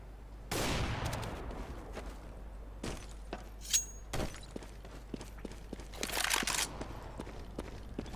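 Sniper rifle gunfire in CS:GO, a sharp blast followed by a sparse series of separate cracks and clicks spread across a fairly quiet game background, with one brief burst of glassy noise partway through.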